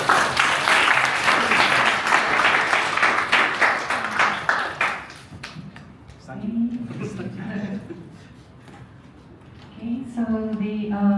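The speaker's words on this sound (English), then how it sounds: "So giving me a round of applause." Audience applause at a Kyushu University forum held in Singapore, dense and loud clapping for about five seconds, then fading out as a speaker resumes talking.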